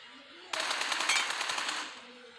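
A rapid burst of automatic gunfire from a weapon in a video game, about a dozen evenly spaced shots over roughly a second and a half, loud and close, with no talking.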